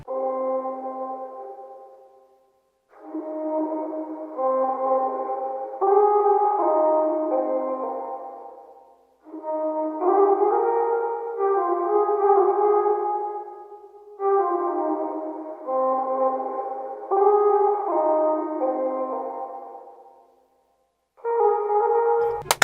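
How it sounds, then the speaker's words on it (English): An R&B sample in FL Studio processed with a stereo sweep delay effect, playing as several echoing melodic phrases separated by short gaps, smeared and repeating tones at moderate loudness, with no talking. "I use this preset, the stereo sweep delay"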